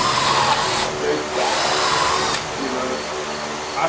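A power drill bores through material with a drill bit, a steady whirring grind with brief pauses and shifts in pitch, close and loud with some background voices.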